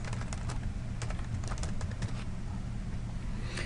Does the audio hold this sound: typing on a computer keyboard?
yes